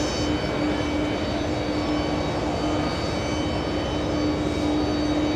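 A JetBlue airliner touches down at JFK airport, its engines a steady, moderately loud broadband rumble with a sustained tonal hum throughout.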